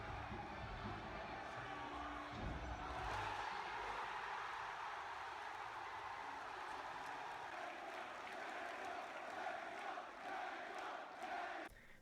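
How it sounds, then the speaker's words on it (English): Crowd at a Super Smash Bros. Melee tournament, Genesis 3, chanting a player's name after a losers finals win: a steady, faint roar of many voices, rhythmic cheering and clapping that holds throughout. "the whole crowd began to chant his name"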